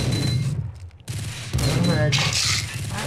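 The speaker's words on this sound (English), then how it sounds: "Okay, notice self, so I'm getting shot at." Gunfire in the Max Payne video game, with bursts of loud shots and booms packed close together, mixed with in-game sound and someone talking over it.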